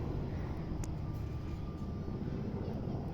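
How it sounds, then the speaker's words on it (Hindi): A helicopter passes over a hilly area near Naini in sunny weather, a steady low droning rumble heard at a moderate distance that holds evenly throughout. "साथ में वो हेलीकॉप्टर जा रहा है"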